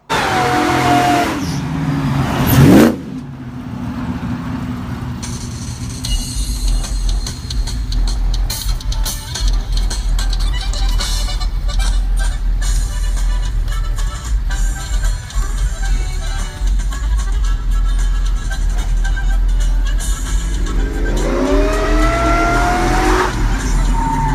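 A car engine revs hard with a rising whine, loud and close, sweeping up and down with a sustained roaring stretch between bursts.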